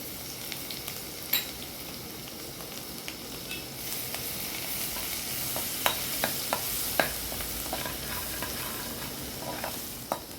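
Crushed garlic cloves and cumin seeds frying in oil for a Maharashtrian chawli leaf bhaji, giving a steady close sizzle with scattered pops and crackles and occasional stirring scrapes, without any voices.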